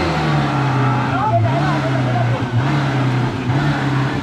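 An off-road Gypsy engine idling and revving low while reversing, stuck in a jungle, a steady close rumble with shifting pitch as people shout and talk over it.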